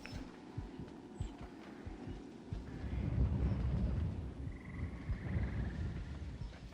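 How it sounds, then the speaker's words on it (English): A low, muffled heartbeat thumps steadily in a video game, repeating under a windy, droning ambient hum with no talk. "I hate the heartbeat."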